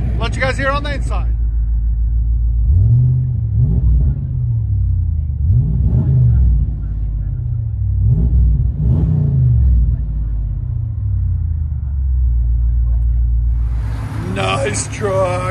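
Inside the cab of a Ram 2500 pickup with a 6.4L Hemi V8, a muffled low exhaust drone swells through several rev pulses, with brief talk at the start and end.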